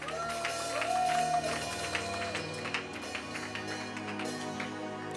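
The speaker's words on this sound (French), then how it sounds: "Est-ce qu'on peut acclamer pour le roi de gloire?" A church congregation at a celebration service cheers and claps for the King of Glory, a mix of scattered applause and crowd voices over a sustained musical tone, moderately loud and steady.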